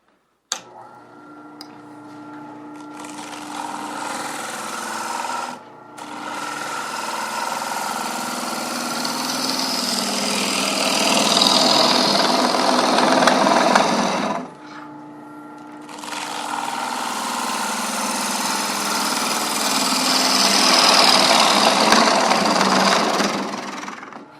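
A wood lathe turning a bowl with a gouge on light finishing passes, giving a loud continuous hiss and whir in two long cuts, each a steady scraping roar broken by short pauses between passes.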